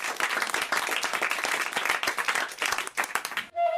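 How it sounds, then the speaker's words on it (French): A radio studio audience on a jokes show claps in a lively, close burst that fills the room and stops abruptly, leaving a brief electronic tone. "on vous applaudit, on vous embrasse quand même."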